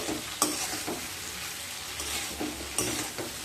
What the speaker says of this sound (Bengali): আলু আর সজনে ডাঁটাগুলোকে দিয়ে দেব। দিয়ে খুব ভালোভাবে মশলার সাথে মিশিয়ে নিতে হবে।